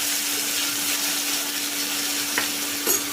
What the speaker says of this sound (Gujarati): અને બટાકા કાપેલા છે તે એડ કરી દઈશું લઈ લઈશું